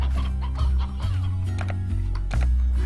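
Rooster clucking in the video game Slime Rancher, a steady run of game fowl clucks over a loud low background hum, with no talk during the clip.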